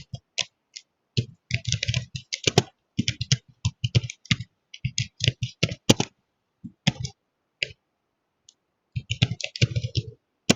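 Typing on a computer keyboard during a word-processing lesson, with close, crisp key clicks in irregular bursts and short pauses, alone with no talk over it.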